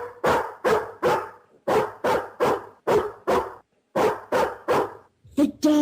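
A dog barks loudly and close in steady groups of two and three sharp barks with short pauses between, ending in a couple of higher yelps.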